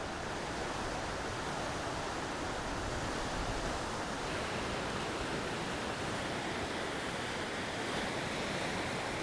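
Gushing river water rushes beneath a narrow suspension cable bridge in the mountains of Dagana, Bhutan, a dense, loud, steady roar with wind mixed in and no pauses.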